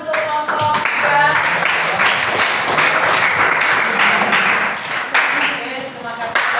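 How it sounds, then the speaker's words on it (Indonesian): Classroom applause for a student group after their presentation on a clean, healthy, eco-friendly school, with steady clapping from a group of students alongside overlapping chatter throughout. "Beri tepuk tangan untuk kelompok 3"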